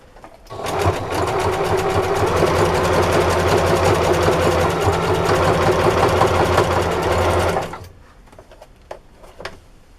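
A sewing machine runs continuously for about seven seconds, stitching a homemade microfiber scrubber sponge, a steady close mechanical whir with rapid needle clatter, then stops abruptly leaving quiet room tone with a few faint clicks.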